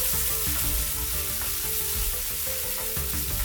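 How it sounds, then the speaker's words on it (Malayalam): Crushed ginger and garlic frying in hot oil for masala dosa filling, a loud, dense, steady sizzle close up with faint stirring underneath. "ഇനി ഇതിലോട്ട് നമുക്ക് രണ്ട് ടീസ്പൂൺ അളവിൽ ഇഞ്ചി ചതച്ചതും വെളുത്തുള്ളി ചതച്ചതും ചേർത്ത് കൊടുക്കാം"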